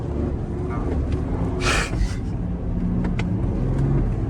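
BMW F10 with an inline-six engine accelerating hard, a loud continuous drone heard from inside the car with brief hissing bursts, voices talking over it.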